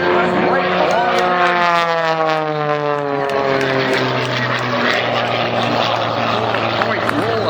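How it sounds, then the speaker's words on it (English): A propeller aerobatic airplane dives at an airshow at Lehigh Valley International Airport, its engine drone loud and sustained with a steadily falling pitch across the whole stretch, closer and then receding, while a commentator talks over it. "these airplanes dive, gaining speed"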